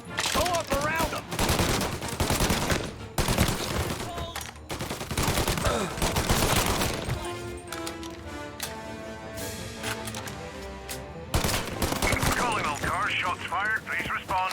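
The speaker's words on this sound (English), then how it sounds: "Shots fired, please respond." Heavy gunfire in a shootout in the video game Mafia Definitive Edition, rapid bursts and single cracks packed closely, loud and near, with voices shouting over the shots.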